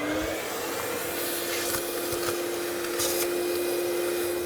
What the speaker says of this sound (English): Vacuum this up a little bit.